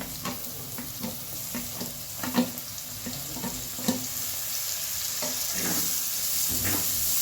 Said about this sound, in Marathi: आता टाकूया बघा टोमॅटो